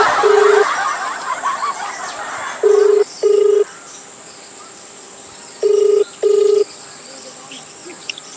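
A phone line sounds in paired low beeps with pauses between them, repeating twice, over a faint hiss and chirping crickets in the background.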